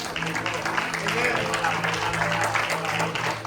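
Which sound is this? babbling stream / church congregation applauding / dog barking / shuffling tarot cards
church congregation applauding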